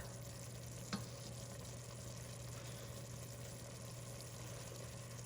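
Browned beef pieces going back into a hot stew pan, with a steady low sizzle and frying hiss running throughout and a brief clatter near the start, no talking.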